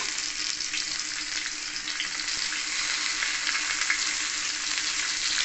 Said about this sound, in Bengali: তেল ভালো করে গরম হয়ে গেলে আমি এই মাছের পিসগুলোকে দিয়ে ভেজে নেব।